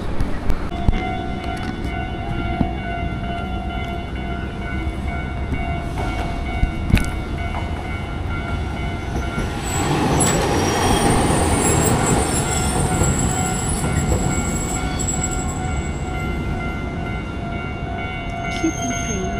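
Train passing with a steady rumble and rolling wheel noise, swelling in the middle as the cars go by, with faint squeals and voices talking softly over it.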